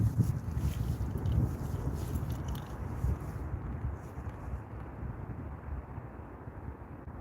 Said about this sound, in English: the wind is blowing steady right now across my legs